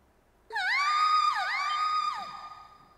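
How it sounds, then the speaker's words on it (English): A loud scream in the video game Trails of Cold Steel, one sustained wavering cry with two sharp downward breaks, heard alone and fading out at the end. "A scream?"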